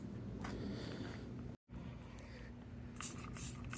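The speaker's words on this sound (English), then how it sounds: "Kind of rinse off all the degreasing foam with this degreaser spray." Degreaser spray rinses foam off a KDX dirt bike, a faint, continuous hiss with a brief cutout midway and a few louder spurts near the end.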